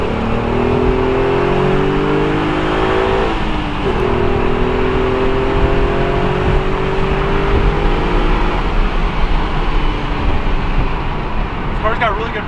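A 1998 all-wheel-drive Audi TT accelerating hard, loud engine roaring close up with rising pitch sweeps and a gear change partway through, then continuing to pull strongly to the end.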